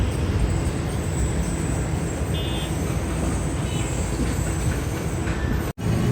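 The Tezgam Express rolls along slowing near a station's outer signal, a steady rumble of wheels and carriages with a faint brief squeal partway through, close and continuous.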